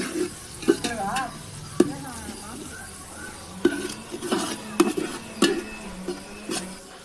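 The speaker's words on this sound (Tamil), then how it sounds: "இப்போ இதை நல்லா வதக்கணும்." A spoon scrapes and clinks against a pan as ground masala with ginger-garlic paste is stirred and fried for biryani, with soft sizzling and occasional talk.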